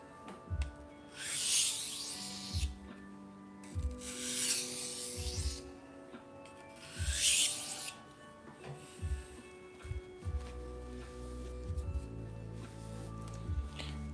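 A blade is sharpened on a stone with repeated rhythmic scraping strokes in bursts of rubbing, paused between passes, up close with no talking.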